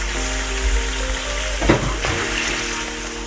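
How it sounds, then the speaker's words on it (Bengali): Duck meat sizzles and fries in oil and spices over a medium flame, with a steady crackle and a brief louder scrape of stirring midway, close and without talk, while a low hum runs underneath. "ডাকগুলো একটু নেড়ে দিলাম।"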